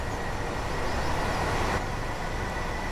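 A high-speed intercity train on the East Coast Main Line in Train Sim World 4 gives a steady, unbroken rumble of motion, loud and constant throughout with no voices.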